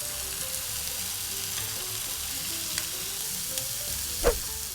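Frozen mini hamburgers frying in hot oil give a steady, dense sizzle throughout, with a few soft clinks and one louder knock near the end; no one speaks.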